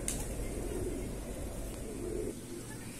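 An Andhra Madrasi pigeon, one of a large backyard flock, gives faint soft coos over a steady wash of outdoor noise.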